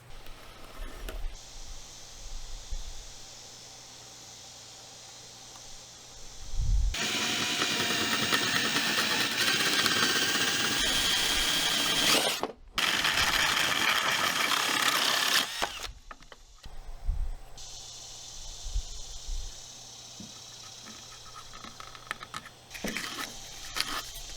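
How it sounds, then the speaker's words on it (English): A power drill whirs loudly for several seconds as it bores into a wooden fence picket birdhouse, pauses briefly, then runs again, with quieter motor hum before and after. "now we're ready to drill the hole so that they can actually get inside the thing"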